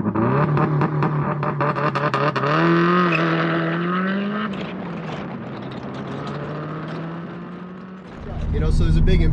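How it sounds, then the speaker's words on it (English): A 2001 Subaru WRX engine rumbles loudly as the car accelerates, its pitch climbing through the revs and then settling into a steady drone before another surge. Someone talks over the engine noise. "It sounds fantastic. It's got that Subaru rumble"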